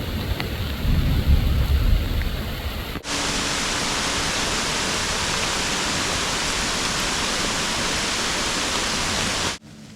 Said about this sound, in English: That was one of them extremely localized thunderstorms.